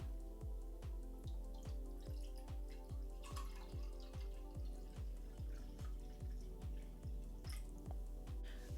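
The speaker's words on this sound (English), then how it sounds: "I'm gonna pour it in so y'all can see here" Pepsi Blue soda is poured into a glass, the liquid splashing in quick, regular pulses close by, with steady fizzing behind and no voices.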